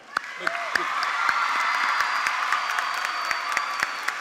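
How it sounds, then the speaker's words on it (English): Guests at a 2022 high school graduation ceremony applaud the graduates, a broad, somewhat distant wash of crowd clapping and murmur with sharp individual claps standing out. "Please give them a round of applause."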